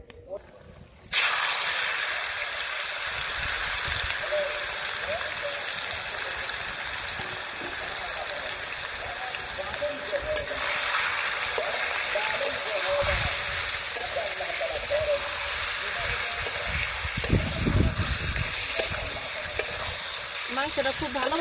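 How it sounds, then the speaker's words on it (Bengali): Chicken pieces sizzle and crackle loudly in hot oil with garam masala in a wok, with a dense, steady frying hiss from the first second onward and occasional stirring clatter. "কড়াই তেলে মাংস দিয়ে দিই।"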